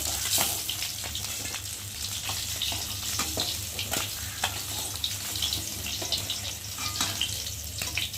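Fish frying in a pan of oil while preparing a fish curry with ridge gourd, a steady close crackling sizzle with scattered pops and light clinks throughout.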